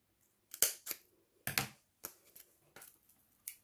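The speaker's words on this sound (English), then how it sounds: "So if we just get the scissors." A series of sharp, crisp snips from scissors cutting through card, irregularly spaced and close by, with quiet gaps between cuts.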